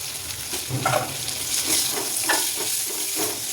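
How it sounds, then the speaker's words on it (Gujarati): Garlic and two chopped onions sautéing in a pan with asafoetida while cooking karela. A dense, close hiss of frying swells and fades in short waves, alone without voices. "લસણ સાતળી જાય પછી અંદર 2 મોટી સમારેલી ડુંગળી નાખીશું"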